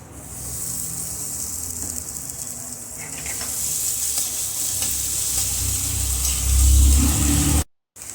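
Bitter gourds roasting in hot oil in a pan, a steady bright sizzle throughout with a low rumbling undertone that swells near the end before a brief cut-out.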